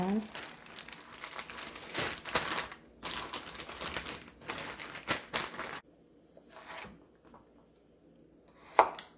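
Close crinkling and rustling of a plastic storage bag of ginger being handled and pressed shut, in bursts with quieter pauses and a sharp click near the end.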